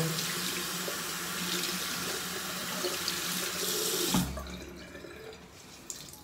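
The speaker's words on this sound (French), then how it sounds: "Faut que je rince ma petite éponge qui vient elle aussi de chez The Face Shop." A tap runs steadily at close range as a small face sponge is rinsed under it, a broad rushing hiss that cuts off sharply near the end, leaving faint drips and handling noise.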